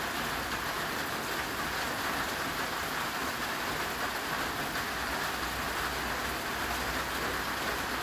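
Steady, dense rain falls outdoors, a constant loud hiss of drops hitting surfaces with no letup and no voices.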